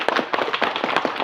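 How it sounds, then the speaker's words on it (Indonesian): An audience applauds at an official gathering honouring a retired police inspector general, with a dense, lively patter of many hands clapping steadily and close by for about a second. "Kita tepuk tangan semua."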